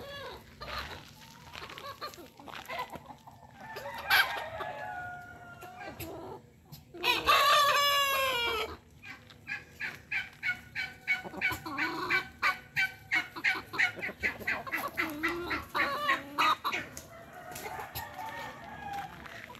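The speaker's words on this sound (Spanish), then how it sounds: "Ahí tienen los dos gallos ahora sí" Two roosters crow in a chicken coop among a flock of hens, with loud crowing bursts near the middle and steady clucking and fowl chatter throughout, no talk.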